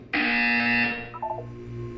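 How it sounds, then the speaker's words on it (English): A loud, steady electronic buzzer in the video game Portal 2 sounds abruptly and holds for most of a second, then cuts off, leaving a faint low hum. "You will hear a buzzer."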